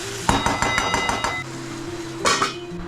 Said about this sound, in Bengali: ডিমের কারিটা কষাচ্ছি এখন।